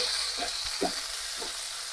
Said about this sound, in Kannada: ಈಗ ಇವು ಬೆಂಡೆಕಾಯಿನ ಫುಲ್ಲು ಮೆತ್ತಗಾಗತ್ತನ ಚೆನ್ನಾಗಿ ಫ್ರೈ ಮಾಡ್ಕೋಬೇಕು ನೋಡ್ರಿ ಎಣ್ಣೆ ಒಳಗೆ.